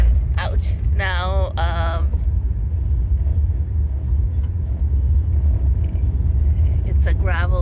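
A car driving on a gravel road near Farwell Canyon, British Columbia, gives a loud, steady low rumble from inside the vehicle throughout, while a voice speaks briefly over it at the start and end.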